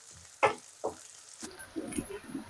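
Capsicum and tomato for achari chicken fry in a pan: a couple of distinct scraping strokes at first, then a soft crackling sizzle with scattered pops.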